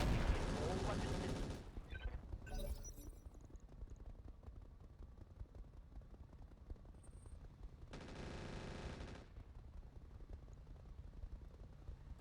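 A mech in the Flashpoint video game firing all its weapons: dense bursts of gunfire and blasts up front, quieter rumbling fire after, then another loud volley, with a voice speaking in between.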